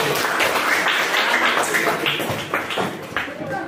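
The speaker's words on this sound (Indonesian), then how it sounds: "beri tepuk tangan untuk kelompok auditori" Applause from schoolchildren in a grade 5 science class during a teaching practice lesson, a steady spell of scattered clapping with voices mixed in, fairly close and filling the room.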